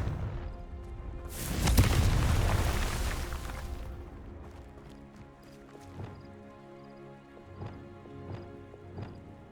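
A Confringo fire spell blast in Hogwarts Legacy erupts as a loud, burst-like whoosh lasting a couple of seconds, then fades into quieter game ambience with soft rhythmic thuds.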